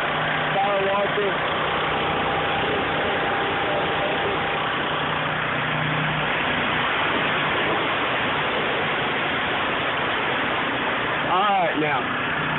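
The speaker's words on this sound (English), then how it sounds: "That's my power washer." A power washer runs steadily through the whole stretch while exterior prep is done on a house in South Arlington, Texas: a constant, loud engine drone and spray hiss with no breaks, and a brief voice rises near the end.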